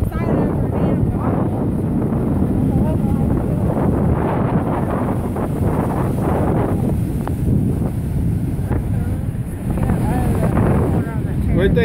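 Strong gusty wind buffets the microphone with a loud, continuous roar on Daytona Beach, and voices talk faintly underneath.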